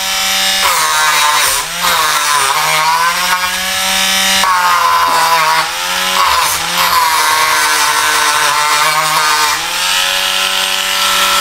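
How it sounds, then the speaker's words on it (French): A small grinder grinds down nail points on a wooden box, a loud, continuous whining buzz that rises and dips in pitch with brief breaks as the tool bears on the metal. "avec ma petite meule, de venir meuler les..."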